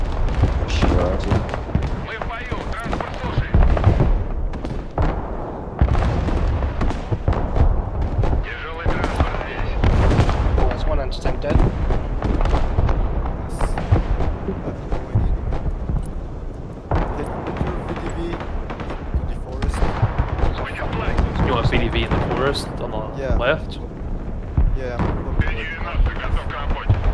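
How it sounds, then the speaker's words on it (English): Battlefield gunfire and booming artillery in the Broken Arrow war game, heavy repeated blasts and crackling shots churning continuously under a voice talking throughout. "Enemy gun artillery on that ping."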